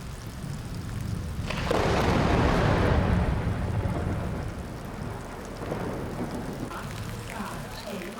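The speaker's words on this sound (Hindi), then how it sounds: "गया जी में तेज बौछारों के साथ" Heavy rain showers fall in Gaya as a dense, steady hiss that swells to a loud roar mid-way and then eases off, with a low rumble underneath.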